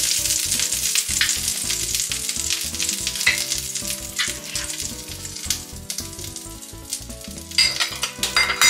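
Pork fillet sears in a frying pan with a loud, continuous sizzle and crackle of hot fat, close up, punctuated by occasional clinks and stirring noises, with no talking.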